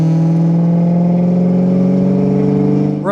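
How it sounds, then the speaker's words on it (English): A 2004 Ford Mustang Mach 1 with a 4.6-litre V8, five-speed manual and Flowmaster exhaust holds a loud, steady, deep idle-to-mid rumble up close, then the revs climb sharply at the very end. "Really love the exhaust note."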